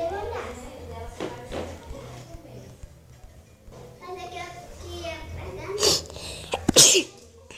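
A child with a cold talks and then gives a couple of sharp, sudden coughs near the end, with kids' voices in the background.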